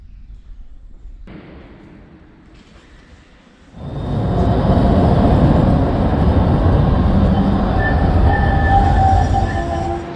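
Trams pass through a busy junction in Sofia, Bulgaria: a quiet street hum, then a tram rolls in loud and close, its wheels rumbling and squealing faintly over several seconds, with no talking.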